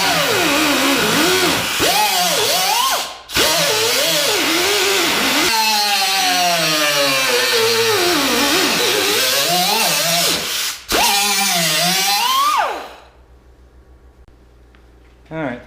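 Power tool cutting rusted cab-corner metal on a 1990 Ford F350 crew cab. The loud, close whine rises and falls in pitch as the load changes, with two brief cuts, and it stops near the end.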